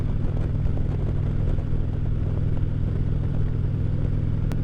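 A 2016 Harley-Davidson Street Glide engine drones steadily throughout, its exhaust rumbling low and continuous as if recorded while riding.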